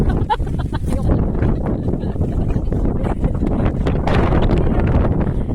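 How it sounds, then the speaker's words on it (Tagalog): Strong wind on the Dragon's Back hiking trail in Hong Kong buffets the microphone in a constant low roar, with faint voices and rustling mixed in throughout. "Grabe guys, ang lakas ng hangin."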